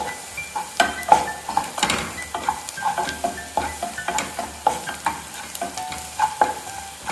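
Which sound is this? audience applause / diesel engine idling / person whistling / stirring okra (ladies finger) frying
stirring okra (ladies finger) frying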